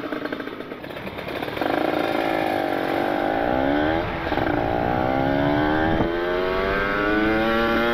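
A Kawasaki Ninja RR two-stroke motorcycle fitted with an ABRT20 aftermarket exhaust revs up loudly and close, its crisp, raspy engine note climbing and dipping through several sustained throttle sweeps with no talking.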